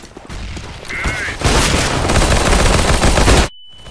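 A flashbang grenade and gunfire in Counter-Strike: Global Offensive, a mechanical clatter followed by a loud sustained burst of blasts and a high ringing tone, then an abrupt cutoff to near silence with a thin lingering whine.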